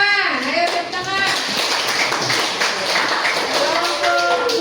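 A classroom of children claps in a sustained burst of applause, dense and loud throughout, with excited young voices calling out over the clapping.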